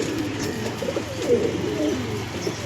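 An Andhra pigeon, a fancy show breed, coos in low, rolling phrases close by, repeating steadily with soft background murmur.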